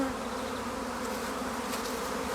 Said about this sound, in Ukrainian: Почав вилітати рій